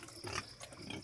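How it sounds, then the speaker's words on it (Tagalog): Pig grunting and snorting near a feeding spot, a few short rough grunts close by over faint background noise. "Pakainin namin yung baboy."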